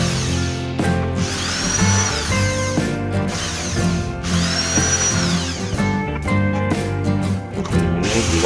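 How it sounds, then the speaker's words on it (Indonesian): A power drill bores holes into the four corners of a lightweight steel hollow-section frame for a back porch door, whining steadily and loud throughout, rising in pitch twice as the bit cuts through. "Kemudian saya lubangi di keempat penjurunya ya, seperti ini."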